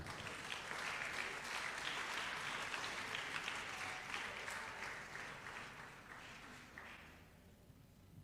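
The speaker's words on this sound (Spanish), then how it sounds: "Damos un aplauso al Rey" A church congregation applauds together in sustained, dense clapping that holds steady, then gradually thins and fades toward the end.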